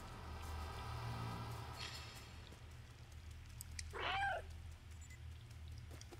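A cat meows once in the video game Stray, a single short, clear call rising then falling, heard over a faint low hum and soft background ambience.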